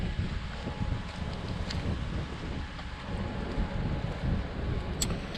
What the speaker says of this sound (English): It's fucking cold out here. It's all windy.